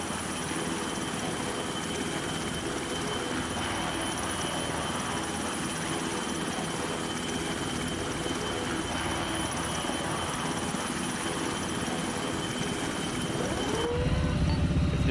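Aircraft flying steadily during a military video game mission, likely a helicopter, with a continuous loud engine and rotor drone that runs throughout, no talking.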